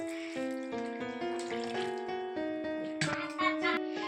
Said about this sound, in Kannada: ಇವಾಗ ನೀರು ಹಾಕೋಣ ಅದು ಮುಣಗೋಷ್ಟು